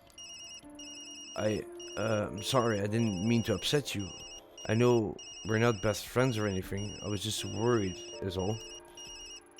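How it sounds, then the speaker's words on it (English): Mobile phone ringtone in the video game Tokyo Dark, a repeating electronic ringing pattern that runs throughout beneath steady dialogue spoken in the foreground. "Sorry, that's my phone."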